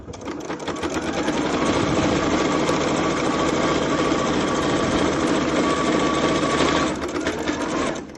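A sewing machine stitching the flap of a fabric clutch, running in a steady, loud whirring burst for several seconds with a brief slowdown near the end for the backstitch.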